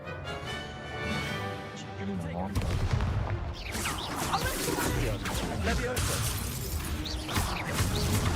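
Incendio fire spell cast in Hogwarts Legacy, a loud crackling burst of flame that surges in after a tonal musical passage and roars on steadily with sharp crackles to the end.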